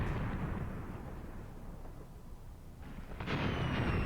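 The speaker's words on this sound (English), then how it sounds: "Germans have brought up more machine guns. Are they firing from the reverse slope here again?" Dense, rumbling battlefield din from the video game Graviteam Tactics, with German machine guns firing in a continuous roar that swells louder near the end.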